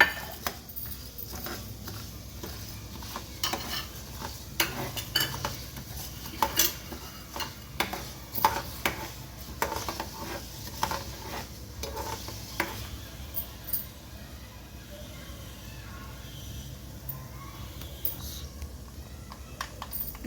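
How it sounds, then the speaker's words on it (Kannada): Mustard seeds spluttering in hot oil with fenugreek for a ripe red chilli chutney tempering: irregular sharp pops and crackles, close and busy at first, thinning toward the end. "ನೋಡಿ, ಸಾಸಿವೆ ಚಟಾಪಟ ಅಂತ ಇದೆ."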